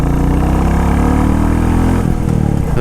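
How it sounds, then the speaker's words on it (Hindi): A motorcycle engine labours uphill in second gear on a mountain road toward Manali, a loud, continuous close drone that wavers and roughens near the end as the load changes. "इधर लोड मान गई बाइक दूसरे गियर में"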